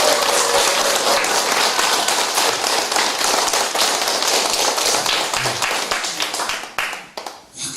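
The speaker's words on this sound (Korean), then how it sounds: "다시 한번 박수 쳐볼까요?" Sustained applause from a seated audience at a senior church college lecture, dense and steady for several seconds before thinning out into scattered claps at the end.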